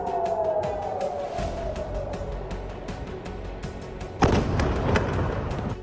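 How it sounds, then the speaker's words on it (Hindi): Air raid sirens wail across Tel Aviv after an Iranian missile attack, a steady descending tone under a dense, noisy city background, with a sharp thump breaking in near the end. "इसके साथ ही तेल अवीव पर भी ईरान ने मिसाइल अटैक किया, जहां मिसाइलों की मार के बाद शहर में सायरन गूंजने लगे।"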